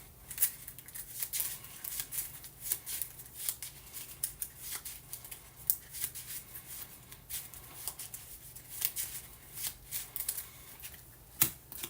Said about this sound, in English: shuffle and deal 2 disasters face down over each item